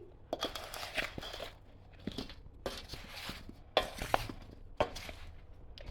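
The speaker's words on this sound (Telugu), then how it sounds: "అంతా కలిసిపోయేటట్టు కలుపుకోవాలి అందుకే ఇది తెడ్డు లాంటిది తీసుకున్నాను నేను కలుపుకోవటానికి" Pickle being mixed with a wooden paddle-like spoon, likely a pickle of ash gourd, gooseberry or red chilli with chilli powder and salt: wet squelching, crunchy scrapes in irregular bursts, close and moderately loud with no talk.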